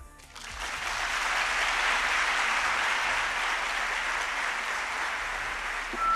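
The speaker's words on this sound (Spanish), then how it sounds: "como hacemos siempre, pues con un fortísimo aplauso" Loud, sustained applause from an auditorium audience at a live history radio show recording in Zaragoza, swelling within the first second into a dense, even roar of clapping that holds steady to the end.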